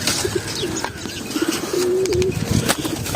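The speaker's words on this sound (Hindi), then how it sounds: "ये परिंदे कितने शौक से खा रहे हैं" Pet pigeons eating grit coo repeatedly in low, throaty phrases close by, with pecking and scattered bird chirps over a busy outdoor background.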